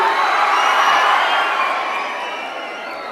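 A large crowd of around a thousand people in an auditorium cheers and claps loudly, a dense sustained roar of shouting and applause that slowly fades over a few seconds.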